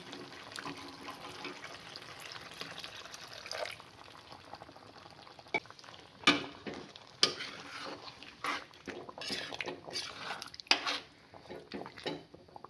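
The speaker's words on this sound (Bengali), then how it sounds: "এবার এর মধ্যে ফুটিয়ে রাখা গরম জল আমরা দিয়ে দেবো গ্রেভির জন্য" Boiled hot water poured into chicken korma gravy in a pan, a steady splashing rush with a few sharp clinks of metal utensils, close and moderately loud.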